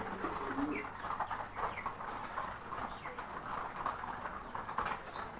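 Racer pigeons at a breeding farm, several birds cooing in soft overlapping bursts close by, with scattered wing flutters and movement throughout.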